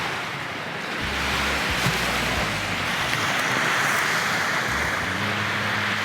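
Waves wash onto a beach in Michigan's Upper Peninsula, a broad steady roar of surf mixed with wind rumble on the microphone, continuous and fairly loud with no talking.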